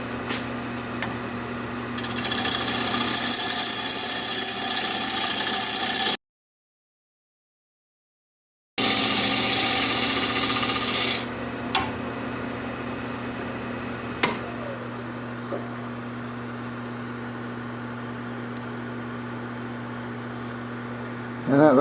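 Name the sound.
wood lathe turning alder bowl with sharpened gouge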